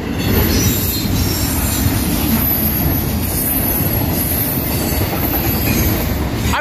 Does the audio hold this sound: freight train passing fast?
yes